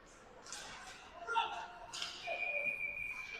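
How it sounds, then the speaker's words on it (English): Referee's whistle at a youth ice hockey game, Little Caps 2012 at Jr Flyers: a thin sustained tone near the end, faint beneath rink noise and a commentator's ongoing talk. "Net comes off, so there's a whistle."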